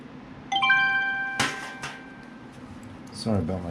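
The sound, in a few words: mobile phone ringtone going off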